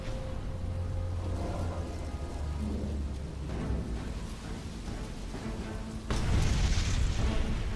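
A torpedoed oil tanker explodes at sea at night, heard as a deep rumbling boom with a hiss like rain, swelling into a louder, rougher burst near the end, with no voices.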